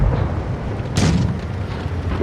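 A tank's main gun fires once in World of Tanks Blitz, the 60TP heavy tank shown, giving a single sharp blast about a second in that decays quickly over steady battle ambience.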